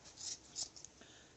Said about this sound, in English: we're just going to take some scissors and just cut